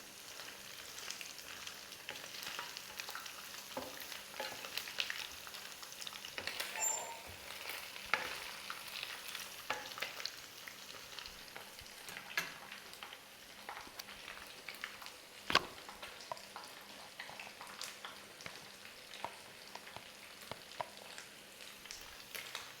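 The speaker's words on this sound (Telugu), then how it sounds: "ఇంకా మూత లేకుండా ఇలా ఫ్రై చేసుకోవాలి." Chicken fries in an open, uncovered pan, giving a soft, steady crackle and sizzle with occasional light stirring taps, quiet and continuous with no one talking.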